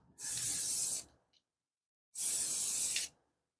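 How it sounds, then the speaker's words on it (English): A spray paint can sprays onto glass in two separate bursts of about a second each, a close, loud, even hiss with a brief click between them. "I'm just going to make sure we get a good spray here."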